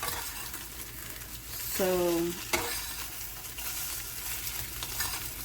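Eggs with chorizo frying in a pan, a continuous crackling sizzle with a brief scrape and squeak of a utensil partway through; a single word is spoken.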